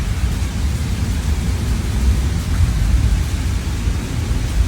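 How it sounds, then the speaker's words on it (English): Heavy rain pours during a thunderstorm in a dense, constant roar with deep low rumbling, loud and unbroken throughout. "That rain is coming down."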